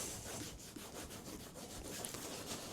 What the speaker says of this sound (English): you just rub it in